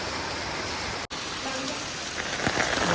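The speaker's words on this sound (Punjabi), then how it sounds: "ਸਾਡੇ ਕਹਿੰਦਾ ਭਾਈ ਫੁੱਲ ਮੀਂਹ ਪੈ ਰਿਹਾ" Heavy monsoon rain pours down steadily as a dense, even hiss of drops on surfaces, with one momentary dropout partway through.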